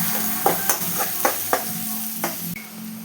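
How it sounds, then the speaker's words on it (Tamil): Chopped large onions frying with curry leaves, a steady close sizzle broken by rhythmic spatula scrapes and taps as they are stirred in the pan. "கட் பண்ணி வச்ச பெரிய வெங்காயத்தை போட்டு கிளறணும் வெங்காயம் செவக்க மட்டும் கிளறிடும்"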